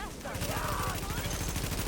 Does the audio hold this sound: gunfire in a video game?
yes